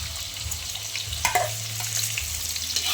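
Chopped onions frying in hot oil with whole garam masala and cardamom for a coriander chicken dish, a steady close sizzle with occasional stirring scrapes and one brief clatter, no voices.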